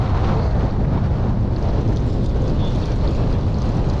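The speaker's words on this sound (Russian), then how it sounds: "А вот сейчас ветер поднялся" Steady wind buffeting a microphone out on open water during an autumn fishing trip, a continuous low roar with no break, close and fairly loud, with faint water wash underneath.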